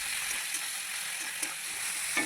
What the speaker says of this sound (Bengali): লবণ দিয়ে ভালো করে টমেটোটা ভেজে নেব।